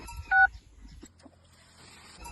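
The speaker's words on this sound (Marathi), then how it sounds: "पंप सुरू करण्यासाठी एक दाबा." A single short keypress tone sounds on a mobile phone pressing one to start a farm water pump by remote motor control, followed by quiet faint clicks and low background hiss.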